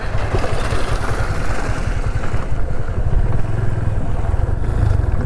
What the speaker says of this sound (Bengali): আর একটা বাইক এসছে এতক্ষণ বাদে